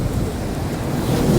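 Sea water surges up against the promenade at Upgang near Sandsend, making a loud, continuous roaring wash of broadband noise that builds slightly toward the end. No one speaks.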